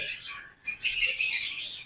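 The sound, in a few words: lovebirds chirping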